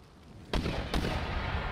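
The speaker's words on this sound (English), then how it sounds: "First shot of the mortars officially fired." A mortar barrage opening fire in the Napoleonic-era strategy game Empire: Total War, two deep, booming reports about half a second apart, each followed by a lingering rumble, with no voices.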